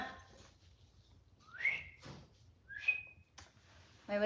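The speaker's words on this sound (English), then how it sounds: "My whistling isn't good." A person whistles a few short rising and sliding notes with pauses between them, fairly close and quiet, followed by a brief burst of sound at the end.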